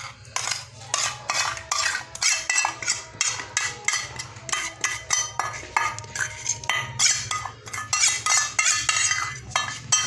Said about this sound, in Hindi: ये सारा कुछ शामिल करके हम इसको दोबारा से भून लेंगे।